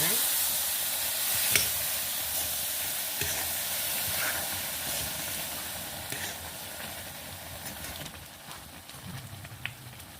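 Tempering spices crackle and sizzle in hot oil for a temple-style prasad, a moderately loud steady frying hiss with scattered pops and clinks of stirring, and no one speaks.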